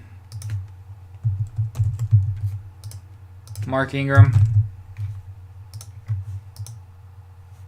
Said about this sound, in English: I'm typing in not even the full word